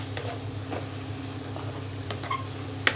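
Fish gravy masala with added garam masala fries and sizzles in a pan with a steady hiss, with occasional stirring scrapes and clinks.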